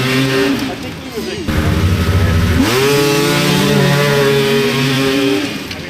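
A snowmobile engine revs loudly and close by, its pitch dropping and then climbing again in sustained surges, with people talking over it.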